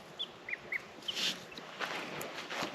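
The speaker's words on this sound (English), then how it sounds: "2 little black ducks back in there." Two little black ducklings on a homestead make a few short, high peeping calls spaced out over a couple of seconds, fairly faint, followed by rustling and low background noise.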